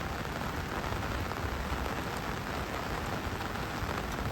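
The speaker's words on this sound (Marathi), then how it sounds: "आणि पाऊस अजून थांबत नाही." Steady, loud rain pours down without a break during a river flood after days of continuous downpour, a dense even hiss with no voices.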